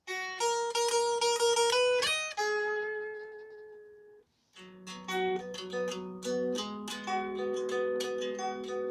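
Electric guitar riff: a held note bends and rings out, a brief pause, then a run of picked notes and chord stabs, clear and close.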